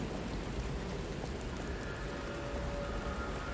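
Steady rain falling at night in the video game Lies of P, a constant dense hiss of drops on surfaces with no breaks, moderately loud throughout and no voices.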